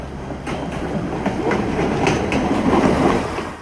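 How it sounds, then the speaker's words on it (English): A train rolling along the tracks toward Aguas Calientes, a loud, close rumble with a rhythmic clickety-clack that swells and holds steady, with no voices. "Every now and then, a train will pass by and we'd all have to get off the tracks."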